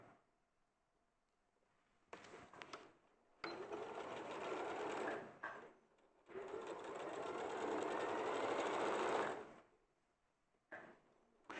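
A domestic sewing machine stitches a seam in three close bursts of whirring motor and rapid needle clatter, separated by quiet pauses, without any talk.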